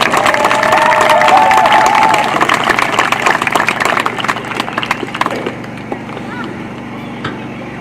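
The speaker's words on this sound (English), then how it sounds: "Nice round of applause for number 14." A crowd at a girls' high school soccer senior night applauds and cheers for a player, loud clapping and a few whoops that fade out over several seconds.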